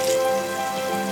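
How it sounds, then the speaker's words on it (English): Pieces of katla fish fry in warm mustard oil with a soft, steady sizzle and light crackle, brief and close, with no one talking. "I am using mustard oil, warm mustard oil for frying my katla fish"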